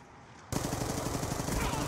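FAL rifle firing in Black Ops 2, starting abruptly after a quiet moment as a close, loud burst of rapid shots that continues to the end.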